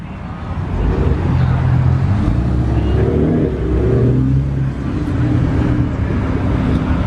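A BMW M3 engine revs at a Friday night car and truck meet, a loud, sustained throaty drone that swells and dips through the whole stretch, with low murmuring voices nearby.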